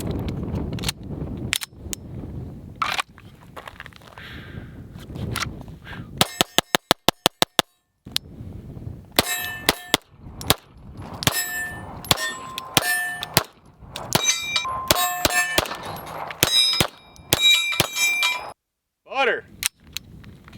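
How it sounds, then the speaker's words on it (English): An STI Staccato P 5-inch 2011 pistol fires many rounds, sharp loud cracks in scattered singles and quick strings with ringing metallic clangs, with voices talking between the bursts. "first rounds through the 5-inch Staccato P from STI"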